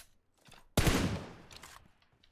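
Gunfire in the mobile battle royale game PUBG Mobile: one sudden loud burst of shots that rings out and fades over about a second, with faint scattered noises before and after.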